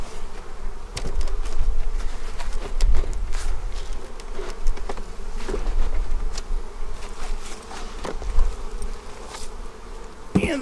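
Dense swarm of honey bees buzzing steadily around an opened beehive during a Demaree split, a loud continuous drone close by with scattered clicks and knocks of hive handling and no speech.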